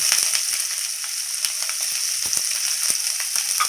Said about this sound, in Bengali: এবার আমি এর মধ্যে একে একে করে সবজিগুলোকে ছেড়ে দিচ্ছি